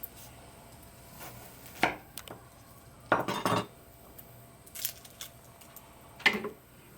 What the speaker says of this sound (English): the next thing that we're going to do is just kind of chop an onion